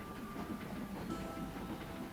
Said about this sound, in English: You can see the train going off.